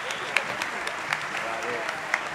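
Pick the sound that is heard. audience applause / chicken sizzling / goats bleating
audience applause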